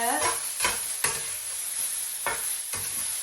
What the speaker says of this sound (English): So now I'm going to sprinkle in some cinnamon and stir that.